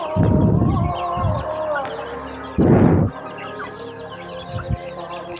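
Mother hens on a small Thai chicken farm cluck and chatter, with a few louder bursts of flapping or squawking close by over a constant background of flock noise.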